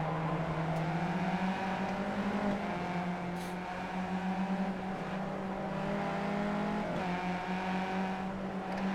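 Race car engine in the iRacing sim, droning loud and steady with harmonic revs that rise and shift through gear changes, brief dips and climbs in pitch across the whole stretch, with no talk over it.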